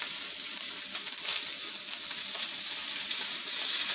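Beef steaks searing in a hot pan greased with their own fat, a loud continuous hiss and crackle of frying that holds steady throughout, close up with no talk.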